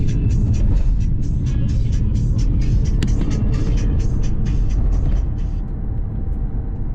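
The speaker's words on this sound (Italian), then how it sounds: "ritiriamo la macchina e ci fiondiamo subito nel traffico di Bishkek" A car drives through city traffic in Bishkek, heard from inside as a steady, loud engine and road rumble with a continuous rattling texture throughout and no break in the noise.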